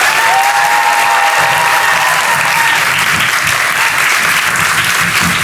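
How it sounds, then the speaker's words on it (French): A studio audience at a children's game show gives a loud, sustained burst of applause mixed with crowd noise and some cheering, with a faint tone sliding underneath. "Faites un tonnerre d'applaudissements pour l'équipe Eda avec Anna."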